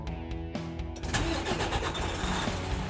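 A DT12 truck engine cranks with a few quick clicks, then catches and settles into a steady, loud mid-pitched running rumble with no talk.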